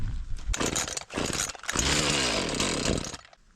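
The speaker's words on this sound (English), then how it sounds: "Where's my chainsaw?" A chainsaw runs loud and close in a backyard, its engine revving and cutting in bursts with brief dips, then settling into a steady high whine before easing off at the end.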